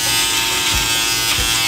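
An electric razor buzzes steadily and loudly up close while shaving body hair, a continuous whine with slight shifts in tone as it moves over the skin.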